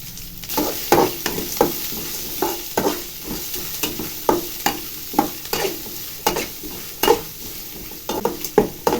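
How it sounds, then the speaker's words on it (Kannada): Chana dal and onion fry in oil in a pan while a spoon stirs them, a continuous sizzle punctuated by repeated close scraping clacks at an irregular rhythm, with no voices. "ಸ್ವಲ್ಪ ಗೋಲ್ಡನ್ ಬ್ರೌನ್ ಬರಬೇಕು ಅದನ್ನು ಚೆನ್ನಾಗಿ ಫ್ರೈ ಮಾಡ್ಕೊಳ್ಳಿ"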